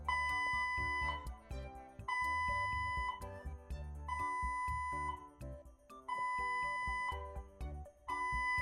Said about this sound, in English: International emergency alarm.